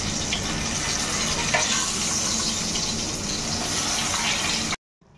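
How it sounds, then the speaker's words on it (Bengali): Fish frying in a pan with sliced potato set aside for it. A steady, close hiss and crackle of sizzling oil runs for several seconds, then cuts off abruptly. "মাছগুলো ভাজা বসিয়ে দিয়েছি"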